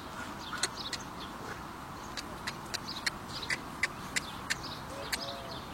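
Ducks at an artificial lake in Tirana give a series of short, sharp quacks, about a dozen spaced irregular calls at moderate distance over a soft outdoor hush, with no talk.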